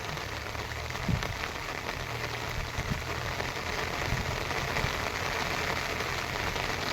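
Heavy rain pours steadily in an outdoor spot where goats shelter under trees, a dense even hiss with scattered drop impacts and a faint low rumble beneath, no voices.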